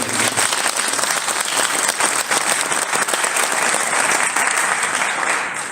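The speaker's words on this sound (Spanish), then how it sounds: "Demos un fuerte aplauso a nuestro querido." A large audience at a national economists' congress breaks into loud, sustained applause, a thick, even roar of many clapping hands that holds steady and eases slightly at the end.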